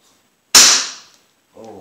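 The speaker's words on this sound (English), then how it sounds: "All right, guys, here we go, the first shot." A single sharp crack from an Umarex Beretta M9A3 .177 caliber air pistol fired at close range, a loud snap with a quick fading tail after a moment of silence, followed by a brief voice.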